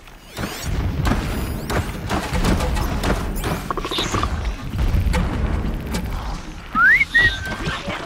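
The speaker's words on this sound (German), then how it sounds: "Und was explodiert denn da im Hintergrund?" Explosions go off in the background of the video game Horizon Zero Dawn: repeated booms and thuds mixed with whistling and mechanical game sounds, fairly loud and continuous.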